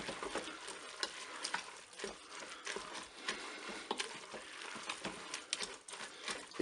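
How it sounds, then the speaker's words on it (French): Crème fraîche being stirred into salmon and shrimp pasta cooked in one pot, giving a steady soft wet stirring with a faint sizzle and irregular scraping ticks throughout, close up and with no talk. "Et je mélange."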